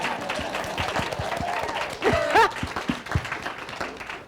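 Audience at a talk on LGBTQ+ issues in Florida gives scattered, sharp hand claps, with a brief swell of clapping and crowd noise midway, under ongoing speech.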